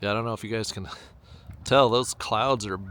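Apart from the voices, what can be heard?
No everyday noise stands out behind the speech.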